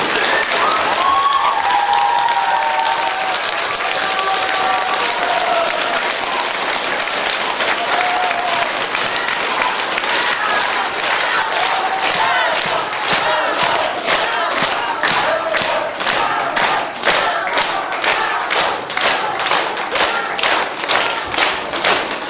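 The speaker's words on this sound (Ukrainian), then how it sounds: "А оцінка буде оприділена так, аплодисмент." Sustained applause from an audience in a hall at a village song and word gathering, beginning as a loud wash of clapping and settling into strong, rhythmic unison claps toward the end.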